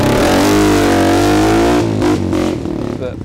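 A custom-built motorcycle engine revs loud and close, holding a steady high rev before dropping back and settling into a rougher, fluttering idle.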